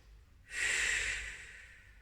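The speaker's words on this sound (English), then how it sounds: "Nice deep breaths in through the nose. Out through the mouth." A single deep breath is drawn in through the nose and let out through the mouth in a yoga cool-down, a soft airy rush close to the mic in an otherwise quiet room.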